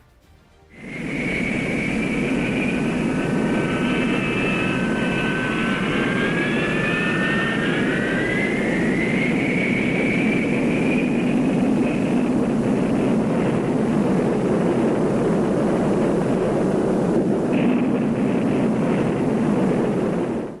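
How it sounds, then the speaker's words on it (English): An F-4B Phantom jet of a Marine fighter attack squadron taxis out for takeoff, its engines roaring loud and steady with a high whine that rises and shifts over the continuous rumble. "the F-4B of Marine Fighter Attack Squadron 115 taxis out for takeoff"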